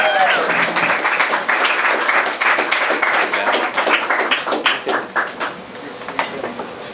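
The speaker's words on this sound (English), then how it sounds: "So give a hearty round of applause" Applause and clapping from a comedy club audience in Athens, Georgia, greeting a stand-up comedian as he takes the stage; dense, loud, sustained clapping with crowd noise throughout, thinning slightly toward the end.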